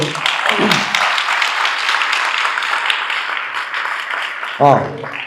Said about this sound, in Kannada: ಆಕ್ಚುಲಿ ರಘು ಜೋರಾಗಿ ಚಪ್ಪಾಳೆ ಬರಲಿ ಫಸ್ಟ್